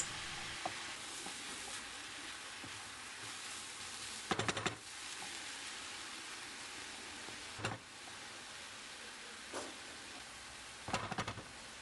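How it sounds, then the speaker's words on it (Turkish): Leeks sautéing in sunflower oil in a pan give a steady, close hiss of sizzling, broken by a few louder scraping stirs now and then. "Pırasaları ilave ettikten sonra yaklaşık olarak 6 veya 7 dakika geçecek. 7 dakikadır kavuruyorum."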